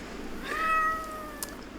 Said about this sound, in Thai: ใช้เสียงแมวด้วย